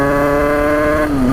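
A Bidalot 100 WR two-stroke motorcycle engine drones loudly and steadily at close range, its buzzing pitch sagging slightly near the end.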